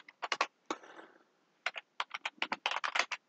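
Quick clusters of crisp key clicks from a computer keyboard as commands are typed, with a short pause between bursts, close and fairly quiet with no speech.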